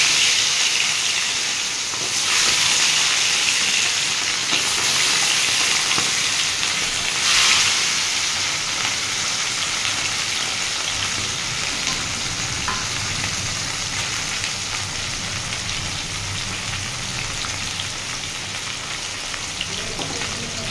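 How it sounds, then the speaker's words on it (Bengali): Bata fish fry in hot oil, giving a loud, steady sizzle and crackle that runs unbroken for about twenty seconds, close by and without talk. "আমি এবার বাটা মাছগুলো ভেজে নেব।"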